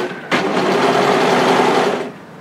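A serger overlocker sewing machine runs in one continuous burst of about two seconds, a close, loud, rapid whirring hum that starts abruptly and stops, with no talking.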